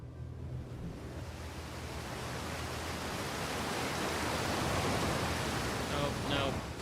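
A waterfall in the video game Outer Wilds roars as a steady, full-bodied rush of falling water, continuous and fairly loud throughout, swelling slightly toward the end with no speech over it.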